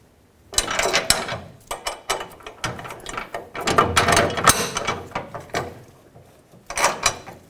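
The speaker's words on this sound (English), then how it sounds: "with a 17mm socket on the bolt side and a 17 socket on the nut side, I'm just going to snug these up for now" A ratcheting socket wrench with a 17mm socket snugs bolts on a leaf spring shackle mounting bracket of a 1997-2003 Ford F-150, in several clicking bursts separated by short pauses, close and fairly loud.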